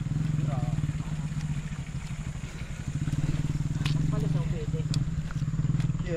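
A motorcycle engine labors while climbing a road, its rapid pulsing putter steady and close, with a rise in effort midway and people talking over it.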